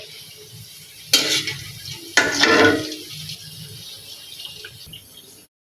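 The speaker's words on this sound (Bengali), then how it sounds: "এইভাবে বাকি সব পিঠাগুলো ভেজে নিচ্ছি" Sweet andosa pitha cakes frying in hot oil, with a soft sizzle interrupted by two bursts of clattering and stirring as the cakes are turned in the pan; no talk.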